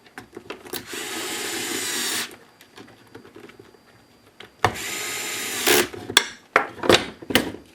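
A power tool tightens a fastener on a lithium-ion battery pack during sensor wiring, with two sustained whirring runs separated by quieter handling clicks and a few sharp knocks near the end.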